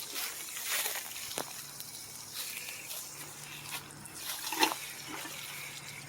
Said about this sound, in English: Here comes some water.